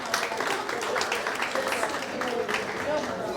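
An audience applauds at a live-streamed conference event, a dense, steady wash of many hands clapping at moderate distance, mixed with crowd murmur for a few seconds.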